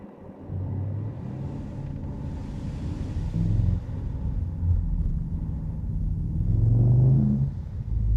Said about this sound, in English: you can still hear the V8